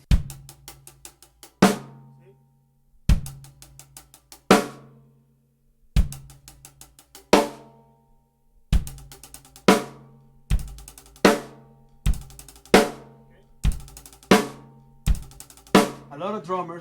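Hi-hat groove built on double strokes, a 9-stroke roll repeated in sharp bursts of quick hits, each ending in a heavy accent, about every second and a half, played close and loud with no talk.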